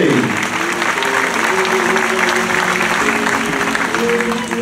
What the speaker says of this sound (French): On l'applaudit encore une fois, Théa.